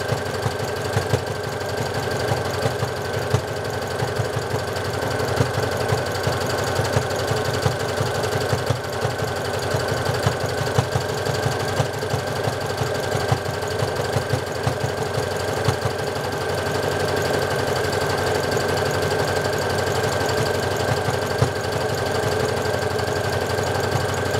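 A sewing machine runs fast while stitching bra pads, a continuous close, rapid mechanical chatter of the needle with a steady motor hum, unbroken for the whole stretch.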